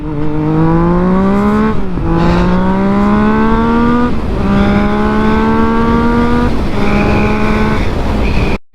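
A Yamaha FZ-09 motorcycle accelerates hard in first gear on a canyon road, its engine note climbing loudly in several rising sweeps, each pull broken by a brief dip as the revs reset.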